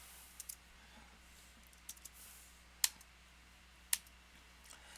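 Computer mouse clicks at a desk, a few sharp quiet clicks scattered irregularly over several seconds, including a pair and two louder single clicks, against faint background hum with no talking.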